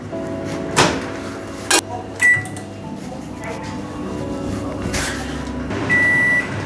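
An oven timer beeps twice to mark the end of baking at 180 degrees: a short electronic tone, then a longer one, heard over kitchen clatter and background noise.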